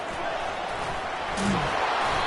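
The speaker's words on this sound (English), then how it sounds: "This crowd bringing the energy and noise early." Crowd noise roars from a college football stadium at Ole Miss vs Miami, a broad, steady wash of distant voices that swells briefly near the end.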